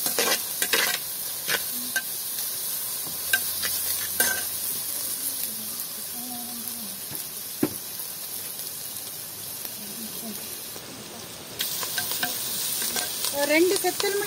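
Onion sautéing with fennel seeds and curry leaves in a pan for upma in a village kitchen: steady frying sizzle with intermittent stirring scrapes and clicks, close and continuous.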